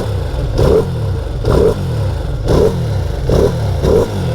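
Ducati Panigale sport bike on its stock exhaust revving hard in repeated bursts, about five sharp throttle blips close by, each rising and dropping back to a rumbling idle, with no voices.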